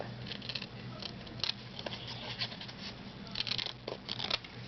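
Scissors snip through material while cutting out faux metal corner pieces for a craft project, a run of close, soft crisp cuts with small rustles and crinkles in between.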